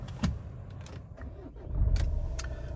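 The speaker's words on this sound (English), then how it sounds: "let's just fire it up for you." A 2016 Vauxhall Vivaro 1.6 CDTi nine-seat diesel minibus starts up. A few faint clicks and rattles come first, then a low engine rumble swells in partway through and settles into a steady idle.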